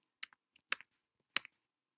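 A few separate clicks on a computer keyboard, crisp and close, spaced apart in a quiet room with silence between presses.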